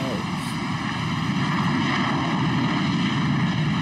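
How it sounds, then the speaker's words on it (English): Boeing airliner during takeoff: a loud, continuous jet-engine roar with a steady whine, close and unbroken for the whole stretch. "So this is a Boeing"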